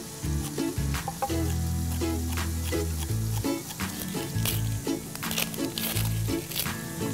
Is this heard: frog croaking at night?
no